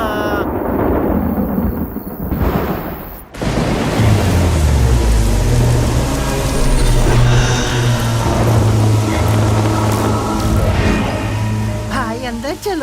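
Steady rain with rumbling thunder in a dubbed Indian film scene, a dense wash of noise running throughout beneath loud music and people talking.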